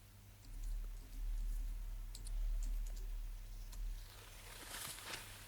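Light clicking of computer keyboard keys comes in short, scattered bursts over a low steady hum, fairly faint and close, with a brief flurry of sharper taps near the end.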